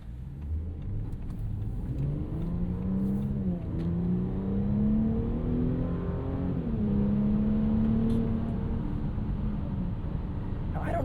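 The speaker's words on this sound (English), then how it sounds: "I don't always love the sound of a V6" A 2025 Audi SQ5's 3-liter single-turbo V6 revs up and eases off in smooth rising and falling sweeps, a strong close engine drone with the pitch climbing twice.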